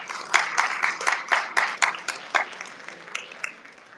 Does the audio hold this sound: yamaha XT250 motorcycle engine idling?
no